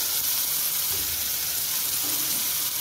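Ground spice paste sizzles and hisses steadily as it is sautéed in hot oil in a pan, a soft continuous frying sound with faint stirring and no talk.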